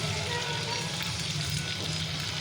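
Marinated chicken sizzles and fries in a pan of spiced oil for chicken do pyaza, a steady close hiss with faint stirring scrapes and no talk.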